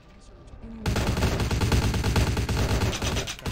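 Sustained gunfire erupts in Vampire The Masquerade Bloodlines, a loud, rapid volley that starts abruptly after a quiet moment and continues nearly nonstop before easing near the end.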